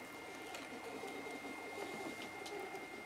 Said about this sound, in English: my printer is doing something